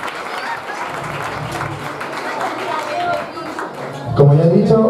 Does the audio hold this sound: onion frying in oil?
no